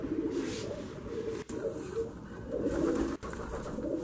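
Andhra breed pigeons coo in low, rolling murmurs close by, the soft throaty calls repeating steadily with two brief pauses and faint background noise.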